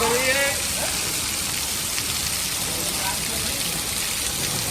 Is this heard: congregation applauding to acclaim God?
no